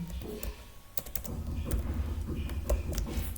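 A computer keyboard clicks while Python code is written, with quick irregular keystrokes and a few sharper key hits over quiet room tone. There is no talking.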